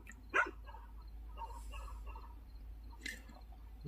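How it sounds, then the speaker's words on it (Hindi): A dog barks at night outdoors, a few sharp barks, one louder near the start and another around three seconds, over a steady low background hum. "पहले ये कुत्ता जो है ये उस साइड पर भौंक रहा था"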